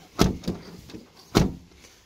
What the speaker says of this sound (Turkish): Kapı kapanma hissine gelirsek arkadaşlar bakın